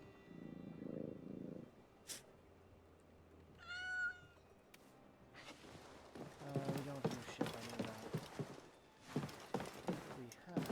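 A cat in the pirate game Assassin's Creed Black Flag purrs and gives a short meow, followed by clopping hooves and rustling game sounds at moderate volume.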